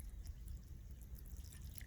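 Water from a hose runs and drips into a shallow dip in a yard, a faint, steady trickle with scattered drip sounds and low rumble, no voices.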